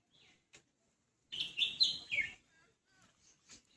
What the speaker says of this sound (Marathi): पक्ष्यांची आवाज आहे का बॅकग्राऊंडला.